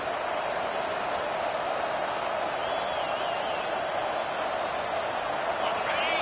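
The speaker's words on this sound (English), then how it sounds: "This crowd trying to make life miserable for this offense." A football stadium crowd roars in a dense, continuous wash of noise, loud and unbroken throughout, with a voice talking over it.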